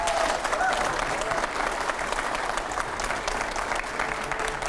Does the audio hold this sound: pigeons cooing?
no